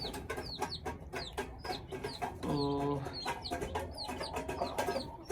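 A flock of chickens, including hens and a white Heera rooster, clucks steadily in a nearby coop. Several birds call at once. Brief speech comes in partway through.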